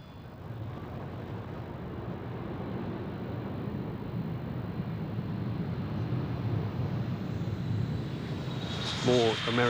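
Steady roar of a large military transport jet, a C-141B Starlifter, passing at the RIAT 2000 air show at RAF Cottesmore, a broad engine rumble that builds slowly, with faint crowd voices under it.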